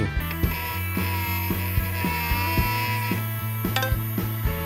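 A small mini 4WD motor runs in on a single 1.5 V battery, giving a steady whining hum with regular faint ticks throughout, close and alone.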